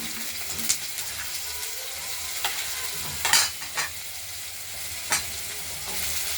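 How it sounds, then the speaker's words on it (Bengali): Potatoes fry in hot oil with a steady broad hiss, broken by a few sharp spattering pops and crackles, close and unaccompanied by speech. "তেলটা হয়ে গিয়েছে, আলুগুলো ছেড়ে দিলাম।"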